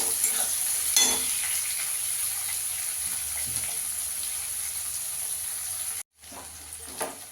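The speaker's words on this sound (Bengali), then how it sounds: "পেঁয়াজ রসুনটাকে একটু ভালো করে ভেজে নেবো।" Chopped onion and crushed garlic fry in hot oil with a steady, close hiss of sizzling, broken by a few stirring scrapes; the sound cuts out abruptly near the end, then resumes more quietly.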